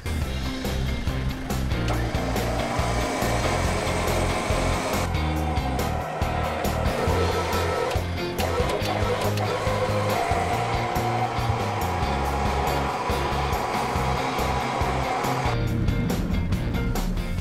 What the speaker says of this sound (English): Ready to winch.